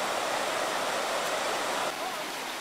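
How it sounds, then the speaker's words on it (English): The water of the Jordan River's head springs rushes where it rises to the surface at Caesarea Philippi. It makes a steady, broadband roar close by, which eases slightly near the end. "This is some of the head springs for the Jordan River."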